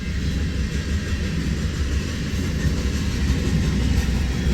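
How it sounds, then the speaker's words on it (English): An eastbound loaded coal train rolls past on the former Chicago, Burlington and Quincy main line in the Midwest, a loud, steady, low rumble of heavy cars that holds for several seconds with no one speaking. "Pretty cool to see that eastbound loaded coal drag though"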